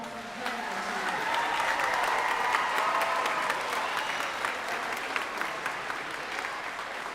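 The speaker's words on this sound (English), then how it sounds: "So will you give them a round of applause?" Audience applause at a school winter band concert honours the marching band seniors, a broad wash of claps swelling from a distant hall and holding steady, with a faint voice at the start.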